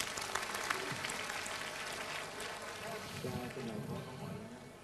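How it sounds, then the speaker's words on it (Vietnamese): Audience applause at a Marian congress gathering, a moderate patter of clapping with voices and murmuring mixed in beneath it. "cho anh một tràng pháo tay."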